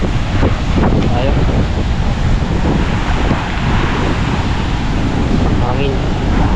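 Strong seaside wind roars steadily across the microphone, a loud continuous buffeting rush with no break over several seconds.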